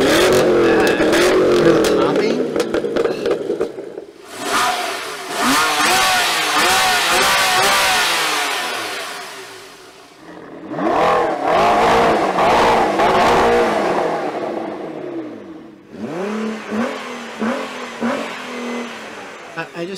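Loud sports car engines roar and rev hard as they accelerate in a drag race, surging three times with brief dips between, voices faintly underneath.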